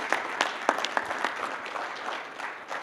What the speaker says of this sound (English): Another round of applause for Keegan for planning this.